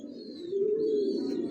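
A long-distance racer pigeon in a loft gives a steady, sustained low coo, close and clear, rising slightly in strength midway and holding to the end.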